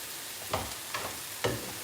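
Ossobuco meat with onions frying in a pan gives a steady close sizzle, broken by a few soft bumps and stirs as the pieces are moved.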